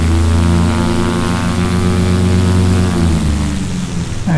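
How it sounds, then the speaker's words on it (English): Cessna 172 piston engine roaring at high power during a run-up with the brakes held, a loud, steady propeller drone close by whose pitch shifts slightly toward the end. "Okay, the engine sounds fine."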